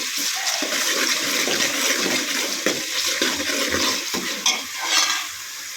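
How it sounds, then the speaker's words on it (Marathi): Curry leaves and ginger-garlic paste frying in a pan, a continuous hissing sizzle broken by scraping, clinking stirs of a spoon against the pan. "कढीपत्ता घेते घालून आलं लसूण पेस्ट व्यवस्थित मिक्स करून घेते"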